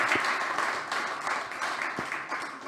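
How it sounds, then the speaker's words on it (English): Sustained audience applause at a startup demo day, a dense even wash of many hands clapping at steady loudness throughout, with no voices over it. "big applause again for Hydrop Water System"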